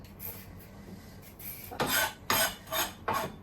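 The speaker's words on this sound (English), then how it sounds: "Here I'm going to grate a carrot." A carrot is grated by hand in a home kitchen, a few quiet scrapes followed by four loud, rhythmic rasping strokes against the grater. Nobody speaks.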